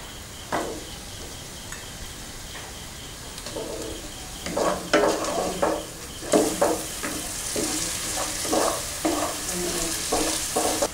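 Chopped tomato is stirred into a frying Kerala-style egg curry masala with onions. A steady sizzle runs under repeated scraping stirs that grow busier and louder partway through.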